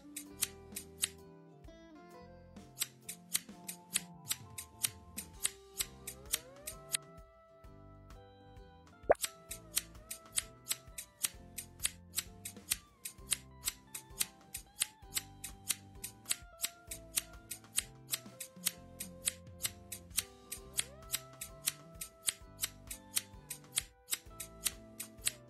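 Crisp, repeated scissor snips from a hair-cutting step in a mobile tattoo-removal game, arriving in quick regular bursts of clicks over soft background game music, with a short pause partway through and no talking.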